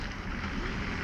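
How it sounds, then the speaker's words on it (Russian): Steady broadband rushing of wind buffeting the microphone, constant and fairly loud throughout, with no other sounds. "Сегодня у нас ветер"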